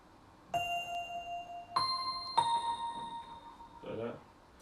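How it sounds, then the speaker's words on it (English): A synth bell plays a slow chorus melody in a hip-hop instrumental, three bright sustained tones struck a second or so apart, each ringing on, before a voice briefly speaks at the end. "I did this bell for the chorus."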